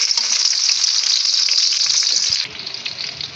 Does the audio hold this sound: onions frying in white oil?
yes